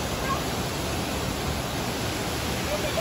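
Mandayao Waterfalls in La Castellana, Negros Occidental, rushing in a dense, unbroken roar of falling water, loud and constant throughout with no voices.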